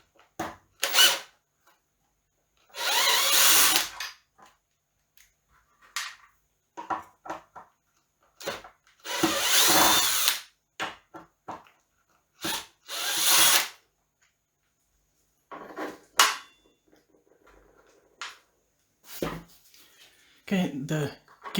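Power drill backing out two black Allen screws that hold the kickstand on a NIU KQi2 Pro electric scooter, in several short whirring bursts separated by pauses and small handling clatter.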